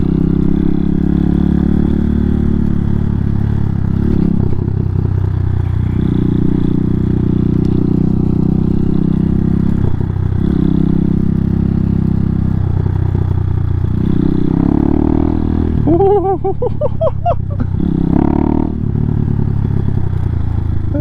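A Hawk 250 motorcycle on Shinko 705 dual sport tires drones steadily as it rides up loose dirt piles, its engine note swelling and dipping with throttle, loud and close throughout with occasional clattering.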